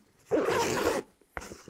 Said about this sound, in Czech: Dostáváme se k hlavní komoře batohu, pakliže chceme zip rozepnout.